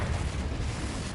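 An Incendio fire spell cast in Hogwarts Legacy, a dense roaring whoosh of flame sustained for about a second, loud and close.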